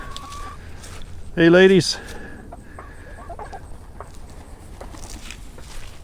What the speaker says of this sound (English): There's some of the chickens